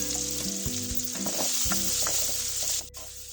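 Onions sauté with chili powder in a pan, a steady close sizzle running throughout with soft stirring scrapes, then briefly dropping off near the end.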